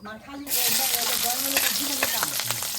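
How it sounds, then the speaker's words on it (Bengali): Loud sizzling of spices, onions, green chillies and garlic dropped into hot oil, starting abruptly and continuing with crackles and stirring scrapes. "এখন সব কিছু ভালো করে ভেজে নেব"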